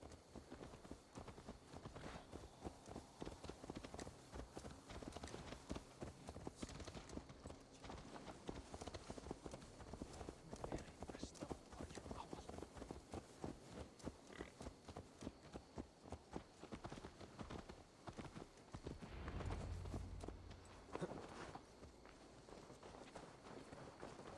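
Horse hooves clip-clop steadily in Assassin's Creed Valhalla on PC, a continuous walking rhythm of close, fairly loud hoofbeats that runs throughout.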